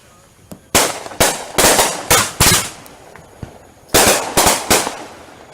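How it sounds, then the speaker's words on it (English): Fireworks going off outdoors at a 2014 display, loud sharp bursts in quick clusters, some paired or overlapping, with short gaps between volleys and a brief crackle in the pauses. "this is such an insane amount of fireworks"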